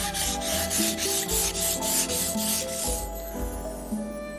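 Knife blade stroked back and forth on a Japanese whetstone, a steady rhythmic rasping scrape of about eight close, even passes with no voices.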